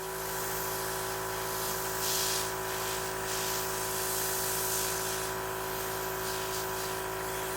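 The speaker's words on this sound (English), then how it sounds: "I'm gonna spray a tissue, making sure that color is well mixed" A steady airbrush hiss, spraying makeup onto a tissue, runs continuously over a constant motor hum, with brief louder bursts of spray, close and uninterrupted.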